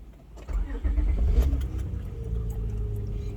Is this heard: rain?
no